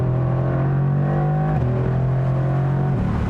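A 2020 Mercedes-AMG GT R Roadster's engine drones loud and close, holding a steady pitch and then stepping down twice as it shifts while accelerating, with no talk over it.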